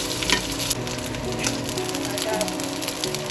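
Bay leaf and ginger paste sizzle in hot oil in a wok for a pumpkin dish, a loud, steady crackling fry close by with stirring scrapes and no voices.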